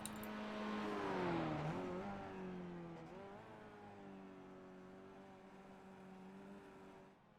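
Race cars lapping the Virginia International Raceway South circuit in the iRacing game during ChampCar series qualifying, engine drones rising and falling in pitch as cars pass, fairly faint and steady without talk.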